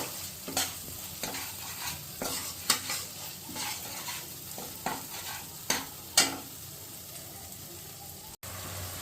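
Ginger-garlic spice paste stir-fried in oil, with a steady close sizzle broken by repeated scraping stirs of a spatula against the pan, several sharp strokes spaced a second or so apart.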